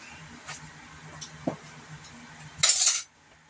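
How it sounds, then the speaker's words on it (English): A metal spoon dips into a pot of broccoli cheese soup, giving a few light taps and clinks and then a short louder scrape near the end, in an otherwise quiet kitchen. "Just get a little bit on a spoon."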